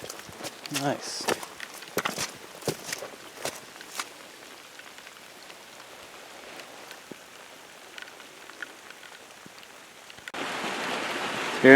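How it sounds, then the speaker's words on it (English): Gentle summer rain falls outside a house in Missoula in July, a soft continuous patter with scattered drips, faint and even, ending with a sudden louder burst of noise. "Still raining outside."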